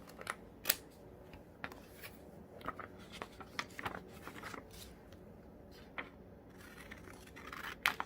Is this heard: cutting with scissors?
yes